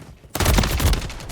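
Rapid automatic gunfire in Modern Warfare 3 breaks in suddenly after a brief quiet moment and continues as a loud, dense burst of shots.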